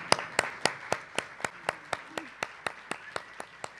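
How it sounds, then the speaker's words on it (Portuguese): Evenly spaced claps, about fourteen in a steady unhurried rhythm, fairly faint and clean, at the close of a talk on literacy teaching, with no voices over them. "A gente agradece com palmas"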